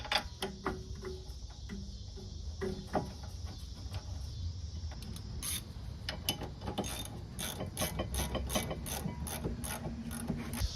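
A ratchet tightens the brake caliper mounting bolt on a 2007–2011 third-generation Honda CR-V, giving rapid, close metallic clicking in bursts that turns into a fast, even run of clicks in the second half.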